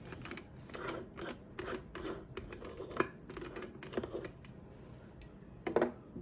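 The hot bottom part of a coffee machine is unscrewed with a cloth, giving a series of short, close rasping and rubbing twists in uneven bursts, with no speech.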